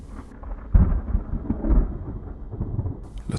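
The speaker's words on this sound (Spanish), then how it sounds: "La tormenta ya había llegado," Thunder rolls from a thunderstorm in short, loud low booms with a rough crackle, heard alone with no voices over it.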